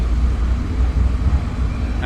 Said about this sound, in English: Got some classic trucks making their way through